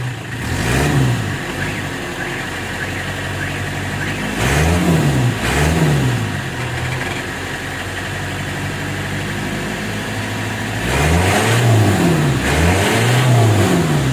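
A 2008 Mitsubishi L300 FB van engine revs up hard three times, each throttle burst rising and falling over a steady idle, close and loud, with a brief voice faintly in the background.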